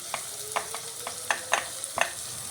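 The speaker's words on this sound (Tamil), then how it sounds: "நறுக்கி வச்சுருக்கிற காய்கள் எல்லாத்தையும் போட்டுடலாம்" Chopped vegetables such as capsicum, beans and carrot with mint and coriander stirred in a frying pan for cauliflower kurma, with soft sizzling under a string of distinct spoon scrapes and clinks at an uneven pace.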